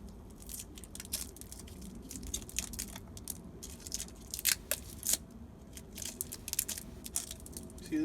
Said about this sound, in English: Cut the tape.